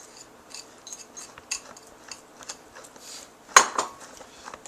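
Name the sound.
mixing spinach into artichoke dip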